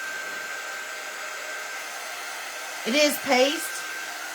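A hair dryer blows steadily to dry freshly applied paint on a thrifted lampshade, a constant airy whir running throughout, with a brief spoken phrase near the end.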